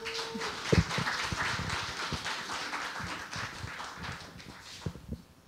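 An audience at a book concert claps in a dense patter of many hands, moderately loud and fading slightly toward the end, with a thump near the start.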